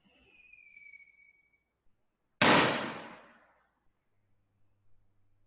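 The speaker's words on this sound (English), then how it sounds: "that is fireworks going off in Mexico, not a gunshot" A single loud firework bang goes off in Mexico, a sharp blast with a rumbling tail that fades over about a second. Faint high tones come before it and a low hum follows, with no voices.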